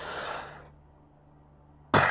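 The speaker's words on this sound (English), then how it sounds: "I inhaled there because I had a cough." A person gives a short, breathy cough after drawing on a vape, heard up close, followed by a pause and then a sharp, louder burst of coughing or exhaling at the end.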